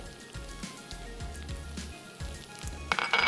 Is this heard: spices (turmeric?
yes